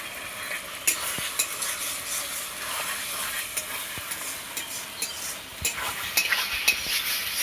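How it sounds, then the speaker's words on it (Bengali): Potatoes fry in a paste of ground ginger, dried chili and cumin for a fish curry, a close crackling sizzle with frequent spoon scrapes and taps against the pan, no voices. "এই মশলা দিয়ে খুব সুন্দর করে কষিয়ে নেব আমি আলুটা"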